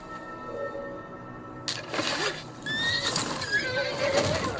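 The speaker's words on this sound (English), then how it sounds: "Oh, horse. Come on, horse." A horse neighs in a dramatic TV fantasy scene, a brief whinny rising over background score and ambient sound, with faint voices around it.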